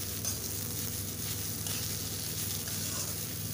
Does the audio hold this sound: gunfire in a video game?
no